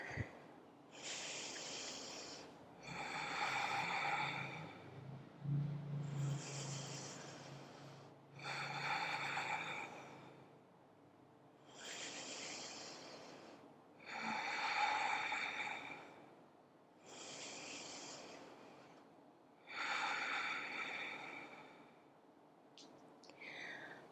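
Slow, deep breathing while holding a yoga warrior pose, with eight long audible breaths alternating between airy inhales and exhales, close and quiet, with no speech.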